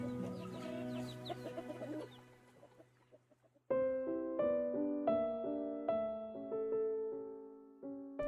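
Chickens cluck and chatter close by for a few seconds, then a run of bright, plucked musical notes takes over.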